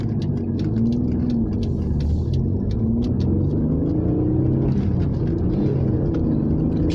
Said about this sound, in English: This is an Alfa Romeo 156 V6